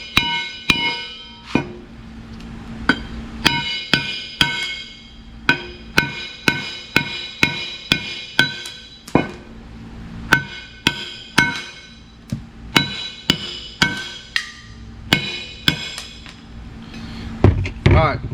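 Metal-on-metal hammer strikes on a 1965 Chevrolet Impala axle ring out in uneven bursts, sharp clanging blows repeated dozens of times, with brief pauses between groups.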